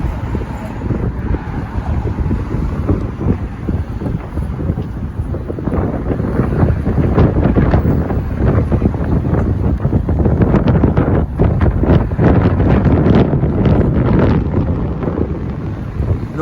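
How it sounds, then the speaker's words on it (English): Strong wind buffets an open microphone on the Brooklyn Bridge, producing a continuous loud rumbling roar with gusty swells and crackling bursts throughout. "I know you hear a lot of wind."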